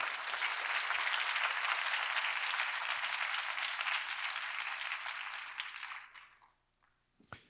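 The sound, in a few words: audience applause at a lecture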